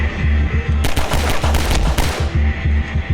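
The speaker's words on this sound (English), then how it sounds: "I can still shoot zombies." Rapid bursts of handgun fire from a House of the Dead arcade cabinet, loud and near, with dense repeated shots over a steady machine hum and no talk.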